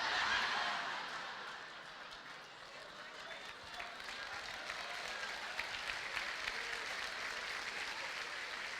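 An audience at a church sermon applauds in a broad wash of clapping that fades slightly, then swells again, with voices mixed in.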